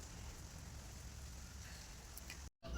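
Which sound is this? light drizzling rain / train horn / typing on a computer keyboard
light drizzling rain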